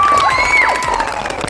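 At a birthday fireworks celebration, children and a crowd cheer and shout loudly and close by, with high excited voices and whoops sustained throughout.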